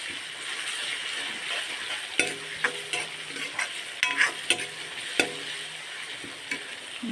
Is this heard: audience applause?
no